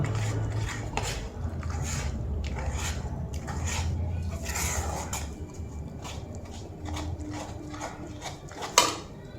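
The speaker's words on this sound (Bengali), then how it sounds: "এবার ময়দাটাকে ভালো করে দুধের সঙ্গে এইভাবে মিক্স করে নেব" Flour mixed with milk in a bowl while making kamalpuli, with close scraping, clinking and tapping of a utensil against the bowl at an irregular pace, and a sharper knock near the end.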